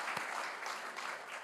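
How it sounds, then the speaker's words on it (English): Audience applause at the LGMA Awards for Excellence ceremony, honouring the awards judges: steady, dense clapping from a crowd, moderately loud and continuous throughout, with no talk over it. "A round of applause for our hardworking"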